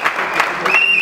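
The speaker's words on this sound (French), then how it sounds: "Applaudissez, s'il vous plaît." An audience claps together for about a second at a memorial gathering, a dense close burst of applause that stays fairly even throughout.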